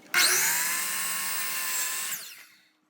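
A miter saw cuts through door trim in one loud, close burst of whining blade lasting about two seconds, then spins down and fades out.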